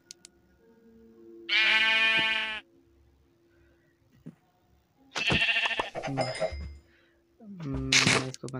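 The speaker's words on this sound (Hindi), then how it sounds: "गाइस ये बकरी ये दिक्कत कर रही है" A Minecraft goat bleats several times in loud, drawn-out, wavering cries with quiet gaps between them, and one call at the end is cut short.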